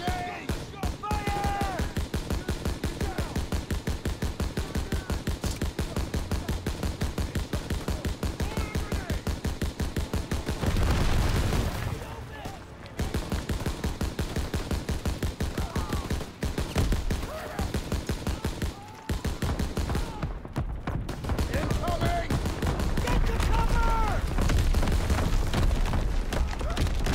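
Dense battlefield gunfire from Call of Duty: WWII, with machine-gun bursts, rifle volleys and booms rolling steadily through the scene, loud and continuous, with brief lulls and shouted voices mixed in.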